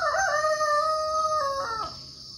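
Midnight, one of three roosters on a small farm, gives a single drawn-out crow at a moderate distance, the call wavering and then tapering off, with no voices over it.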